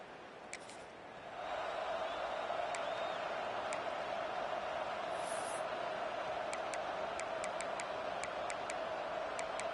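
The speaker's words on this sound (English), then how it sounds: "Listen to the crowd energy here in the early going." Crowd noise fills a college football video game stadium in an EA Sports game with Georgia hosting FIU, rising after a quiet opening into a steady loud roar, with sharp ticking clicks scattered on top.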